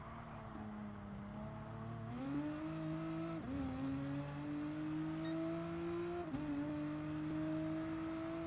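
Simulated race car accelerating hard on Circuit de la Sarthe in Gran Turismo Sport, a continuous loud engine tone rising in pitch through several gear shifts, with no talking.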